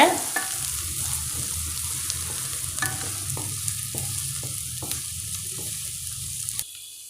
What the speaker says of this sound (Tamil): இப்போ நாம் வெங்காயத்தை சேர்த்துடலாம் வெங்காயத்தை நல்லா வதக்கிக்கோங்க